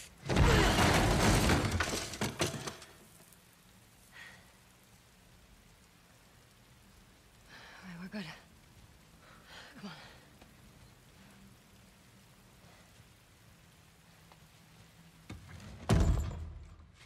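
Rain in The Last of Us Part 2 falling as a soft, steady patter, with a loud crashing burst at the start and another near the end, plus a few faint knocks and thuds in between.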